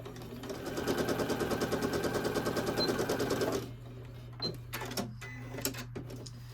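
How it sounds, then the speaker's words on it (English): A sewing machine runs a scant quarter-inch seam through fabric with raw edges lined up, a steady rapid rattle for about three and a half seconds, then stopping into quiet handling clicks. "I'm just going to sew a scant 1/4 inch, making sure the raw edges are lined up."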